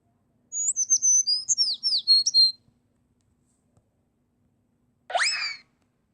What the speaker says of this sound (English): Here comes a quail!